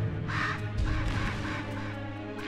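A few close, grating crow caws in Selma and the Wisp, a strong call early followed by weaker ones, over a low sustained game soundtrack.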